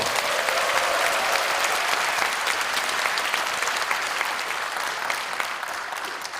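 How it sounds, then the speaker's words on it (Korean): A large audience at a lawmaker's constituency report meeting in Incheon's Seo District gives a dense, steady round of applause, sustained and even for several seconds with no talk over it. "큰 박수 부탁드립니다."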